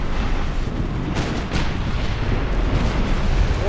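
Torpedo hits burst against warships in a naval battle game: a loud, continuous rumbling roar of blasts with a few sharper swells, no clear gaps and no talk.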